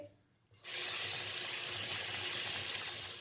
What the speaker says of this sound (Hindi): स्ट्रॉबेरीज़ को मैं पहले भी एक दफ़ा धो चुकी हूँ, अब मैं इसको दूसरी दफ़ा धो रही हूँ